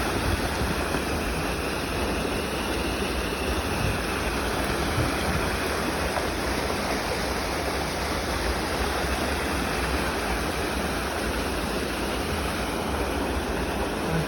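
A garden stream rushes steadily and loudly, a dense unbroken wash of flowing water that holds an even level throughout with no pauses or talk.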